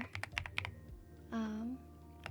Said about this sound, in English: typing slower to let you guys hear the keycap or the keyboard sounds